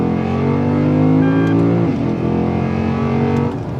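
A Lexus IS F engine revs hard under acceleration, a loud sustained roar with rising harmonic tones that dips briefly midway and then climbs again, heard close from inside the car with no talk.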